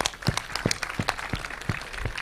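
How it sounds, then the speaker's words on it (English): An audience claps for a student at a career talk on defence opportunities, scattered hand claps landing irregularly over a room's murmur rather than a full ovation. "Clap for him, all of you, come."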